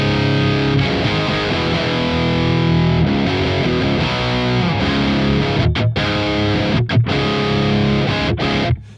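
Les Paul electric guitar played through a Revv Generator 100R amp on its crunch channel, giving loud, sustained distorted chords that ring continuously with a few brief breaks between strums.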